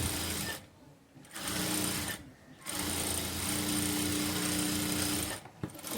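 Sewing machine double-stitching a blouse: close, rapid mechanical chatter in three bursts broken by short pauses, the longest run in the middle, with no speech.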